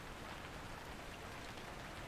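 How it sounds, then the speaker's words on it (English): Faint, steady rain falls in the background on a city sidewalk, making a soft, even hiss that stays unchanged throughout the short stretch with no voices. "There was silence, just the faint buzz of rain in the background."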